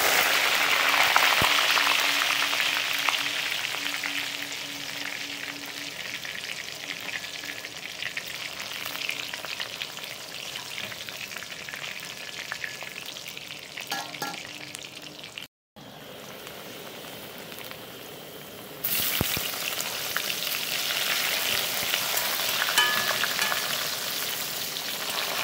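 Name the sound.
eggplant pieces frying in oil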